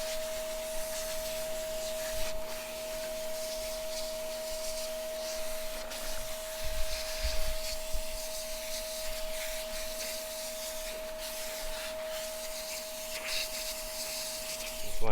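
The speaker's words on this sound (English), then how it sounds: "I'm going to try to blow them out using the vac here." A shop vac blows debris out of AC condenser coils with a steady loud whooshing roar and a constant whine, with occasional scraping and rubbing against the fins throughout.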